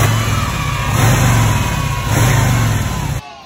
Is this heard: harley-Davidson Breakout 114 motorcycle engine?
yes